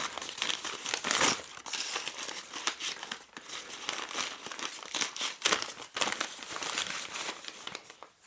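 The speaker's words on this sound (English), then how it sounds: "the sticky tape and of course popping or unwrapping the paper." Gift paper and sticky tape are torn and unwrapped for a Secret Santa present, giving close, loud crinkling and rustling in irregular bursts with sharp tearing moments and no voices.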